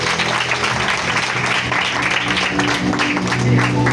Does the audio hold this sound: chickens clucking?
no